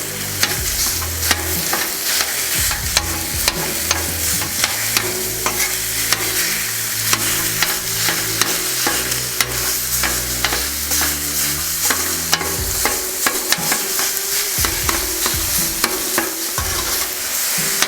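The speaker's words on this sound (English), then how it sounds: "we're going to go ahead and start working on this ground beef" About a pound of ground beef cooking on a Blackstone griddle, a constant loud sizzle punctuated by rapid, repeated spatula scrapes and chops as the meat is broken apart.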